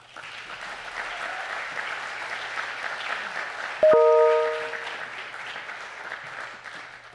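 Audience applause welcomes the speaker Kathryn at a spring quarter general meeting, steady clapping throughout with a brief sharp tone partway through, moderately loud and without talk.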